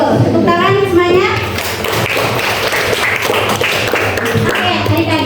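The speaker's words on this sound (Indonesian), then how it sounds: "Tepuk tangan semuanya." Students in a school classroom clap their hands together after answering a question, a dense patter of claps mixed with children's voices and a teacher's speech over a busy room.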